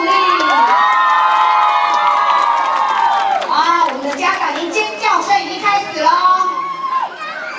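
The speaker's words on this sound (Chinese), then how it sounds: "请掌声鼓励。" A crowd of children and parents cheering, shouting and clapping at a kindergarten graduation ceremony performance, loud and sustained at first, then breaking into excited children's voices and talk.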